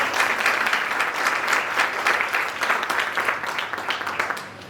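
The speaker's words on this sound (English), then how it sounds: "Can you all give them a big applause?" Loud, full applause fills a hall at a national moot court competition, many people clapping together in a dense, lively roar that stays strong for several seconds and then tapers off toward the end.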